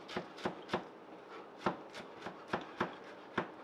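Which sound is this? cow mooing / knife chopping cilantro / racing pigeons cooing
knife chopping cilantro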